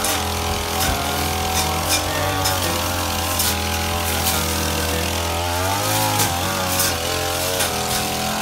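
A motorised grass cutter working through overgrown grass around a house in Balok, Kuantan, droning loudly and steadily with a harmonic engine whine that shifts pitch slightly as it cuts, with no talking.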